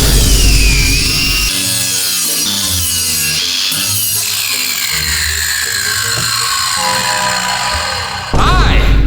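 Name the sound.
hook saw sawing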